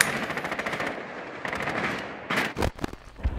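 Rapid automatic gunfire in the video game Rainbow Six Siege: dense, loud volleys in a continuous rattle, followed by a few heavier separate shots near the end.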